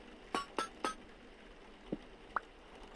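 Bright glassy clinks from the Vintage Story video game: three quick ringing taps in a row, then two lighter, more scattered pings with a short resonant tail over a faint background hiss.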